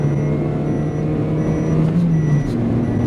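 A Great Wall M4 running on LPG accelerates, a steady close engine drone with a rising tonal hum under constant road noise, with no talking.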